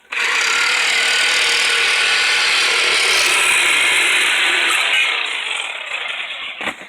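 A 3/8-inch ratchet wrench works a fastener off a horse project build, giving a loud, continuous rasping mechanical whir for several seconds that fades near the end, with no talking.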